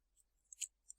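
A few faint, crisp snips as part of a game controller is cut away, with one clearer cut in the middle and small clicks on either side, close and otherwise quiet.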